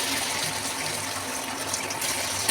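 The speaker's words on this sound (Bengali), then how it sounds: "এবার আস্তে আস্তে একটা একটা করে চিকেনগুলো দিয়ে দেবো।" Chicken pakora pieces sizzle as they drop into hot frying oil, a dense, steady hiss of bubbling fat heard close without any voices.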